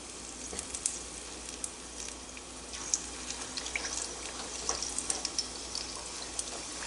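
Chicken pakoras dropped into hot oil, a dense continuous sizzle with frequent crackling pops close by, no talking.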